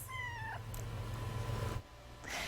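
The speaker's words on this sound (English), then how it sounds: "If you'd like to adopt Sidney or one of the other kittens from Kitty City Cat Rescue" A rescue kitten gives a short, clear meow at the start, followed by faint fainter mews over a low steady hum, close and alone without talk.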